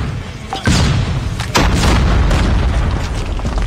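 Two heavy booms from a bomb going off in Call of Duty Mobile, the first landing after a brief lull and the second close behind, each followed by a loud rumbling tail.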